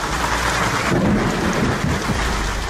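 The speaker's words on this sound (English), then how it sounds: "the latest storm fronts have seen hail hammering down the northern suburbs and northern beaches, particularly copping a battering" Hailstorm with thunder over Sydney's northern suburbs at Waitara, where hailstones nearly golf ball size fell; a dense, steady roar of pounding ice and rain fills the short stretch, with a deeper rumble swelling through it.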